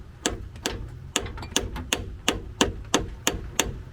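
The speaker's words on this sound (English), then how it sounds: "use my other hammer here" A hammer strikes a PVC cap to tap a new axle seal into the front differential of a Chevrolet Colorado, giving about a dozen evenly spaced, crisp knocks at a steady pace.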